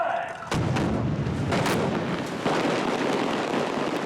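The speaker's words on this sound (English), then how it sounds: "one of the big effects in the sequence was a series of explosions with a car getting flipped" Film-set special-effects explosions flip a car, loud booming blasts in quick succession, each burst followed by a sustained, roaring rumble.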